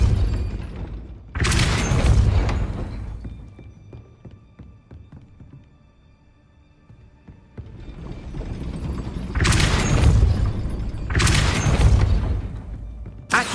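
Repeated Depulso spell casts in Hogwarts Legacy: loud whooshing bursts with heavy low booms, one at the start, then two more in close succession after a quieter stretch of faint clattering.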